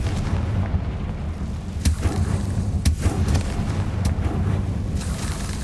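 Confringo blasting spell explosions in Hogwarts Legacy, dense rumbling booms with sharp cracking bursts scattered through a continuous loud roar.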